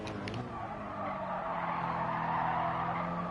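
Tires of a car in Gran Turismo Sport squeal as its rear end slides out, a sustained skidding screech over steady engine drone, loud and continuous with no talk.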